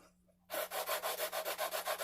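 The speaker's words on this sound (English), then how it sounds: "I have like a 6-inch sanding block with 220 grit" After a short pause, a 6-inch sanding block with 220-grit paper rubs briskly back and forth over guitar frets, a rhythmic rasping scrape repeating about five times a second, close up.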